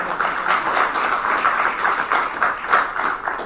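Audience at a university School of Education convocation applauding a newly promoted associate professor, a steady wash of many hands clapping at moderate loudness with no talk over it.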